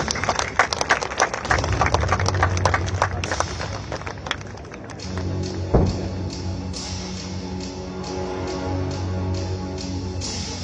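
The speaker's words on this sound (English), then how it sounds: "It's a huge round of applause for our Akash system." Applause from an audience celebrating a successful Akash missile system demonstration at an Indian Air Force power show near the Pakistan border; dense, crowded clapping for about five seconds, then settling into a steadier, softer wash of noise.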